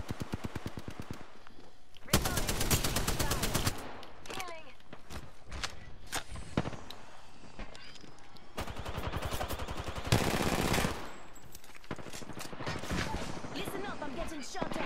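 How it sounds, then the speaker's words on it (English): Gunfire from the video game Apex Legends during a squad fight, with bursts of rapid automatic shots in dense volleys, scattered single shots and footsteps, heard under a player's ongoing talk. "I'm getting shot at. They're shooting at me."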